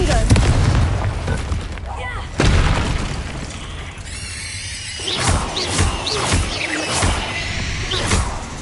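Spell explosions from the Confringo fire curse in Hogwarts Legacy, heavy booms and bursts with whooshing tails repeating over several seconds, mixed with game effects and a speaking voice.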